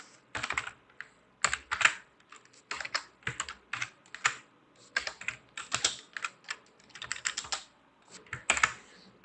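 Code is typed on a computer keyboard in a programming IDE, with close, crisp keystrokes in uneven bursts and short pauses, no talking.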